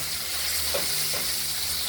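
Pieces of rohu fish fry in a pan of oil, giving a steady, even hiss and sizzle at close range, with no talking.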